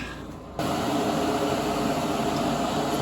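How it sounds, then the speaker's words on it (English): A spray booth exhaust fan kicks on abruptly after a brief quiet moment, then runs as a steady, loud broadband whoosh of moving air that fills the rest of the clip. "turn my exhaust on"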